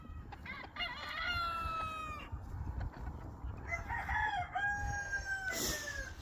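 Lavender Orpington chickens and a rooster on a cold-morning farm cluck and crow over steady low wind or ambient rumble, with several overlapping drawn-out crows at moderate distance.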